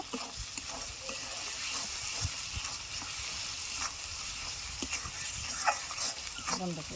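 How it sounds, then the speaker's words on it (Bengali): Spice paste frying in oil for a desi chicken curry with raw plums, a steady soft sizzle with intermittent stirring scrapes and clatters, moderately close, with a voice faintly in the background. "জল ছাড়া তেলের উপর দিয়ে মশলাটা আমি সুন্দর করে কষিয়ে নিয়েছি"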